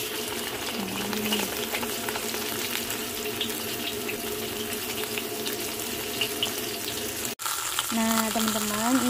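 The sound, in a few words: fish frying in hot oil in a pan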